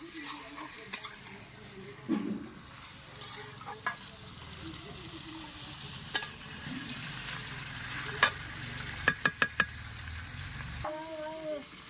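Chicken masala is slowly sautéed in a pan, a steady low sizzle broken by repeated scraping stirs and a few sharp clinks of utensil on metal, close up, with faint voice in the background.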